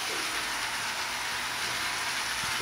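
HO scale model train running around a loop on a layout, a continuous, even whirring and rolling hiss with faint rail clicks, steady throughout and fairly close.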